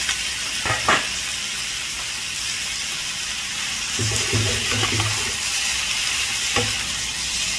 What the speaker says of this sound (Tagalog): Ilagay na natin ngayon yung ating ampalaya.